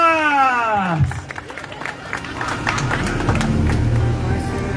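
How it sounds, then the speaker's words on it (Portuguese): A small crowd claps and cheers nearby at a birthday celebration after a voice trails off, the applause steady and lively for a few seconds. "Uma salva de palmas!"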